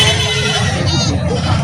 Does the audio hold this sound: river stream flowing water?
no